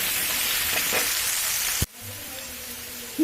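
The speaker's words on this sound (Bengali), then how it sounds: "তেল গরম করে আলুটা লবণ আর হলুদ দিয়ে ভেজে নেবো" Potatoes frying in hot oil with salt and turmeric give a steady, close sizzle that cuts off abruptly partway through, then returns as a quieter, thinner frying hiss.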